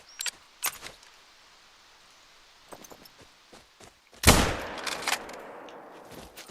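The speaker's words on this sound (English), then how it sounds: "This is a shotgun." A shotgun firing in theHunter: Call of the Wild, one loud sharp blast about two-thirds through, trailing off into a long echoing reverb tail across open outdoor terrain. Softer clicks and handling noises come before it.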